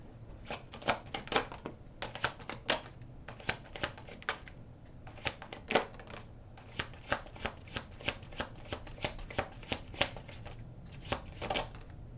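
Tarot cards being shuffled by hand for a reading, a steady run of crisp riffling bursts and soft slaps repeating close by over several seconds, with no talk.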